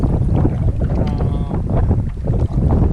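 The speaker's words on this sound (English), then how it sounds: "You can probably hear the wind" Strong wind buffets the microphone in a continuous low roar with gusty swells, loud and close throughout, during a canoe trip on the Upper Missouri River Breaks.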